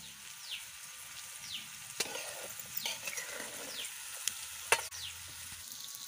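A vegetable cooking in a pan with peanut powder, chutney and salt, a steady low sizzle and frying hiss throughout, with occasional light scrapes of stirring.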